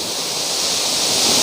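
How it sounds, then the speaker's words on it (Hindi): Birthi Falls, a waterfall between Kapkot and Munsiyari, roars in a loud, steady, hissing rush of falling water, close by and unbroken. "तो बहुत स्पीड से झरना गिर रहा है"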